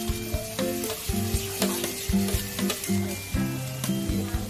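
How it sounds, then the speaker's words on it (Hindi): Onions fry in melted butter in a pan for Maggi noodles, giving a continuous sizzle broken by a repeated rhythm of scraping stirring strokes and spoon knocks, close and fairly loud, with no talking. "ऑनियन फ्राई हो रही है, इनको ब्राउन होने तक हम फ्राई करेंगे"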